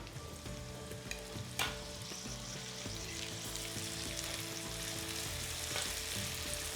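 Chopped onion, green chili and tomato fry in a pan of oil for a Rajasthani dal, giving a steady close sizzle with a few stirring scrapes and no talking.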